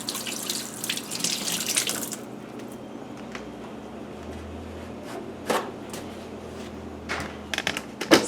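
Hands stained red from beets are rinsed under a running kitchen tap, water splashing steadily into the sink for the first couple of seconds before easing to quieter drips, rubbing and a few sharp clinks.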